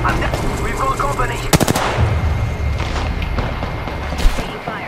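Video game gunfire in Apex Legends: rapid automatic bursts and sharp single shots crack loudly through a dense mix of in-game effects and battle noise, with a brief fast volley standing out near the middle.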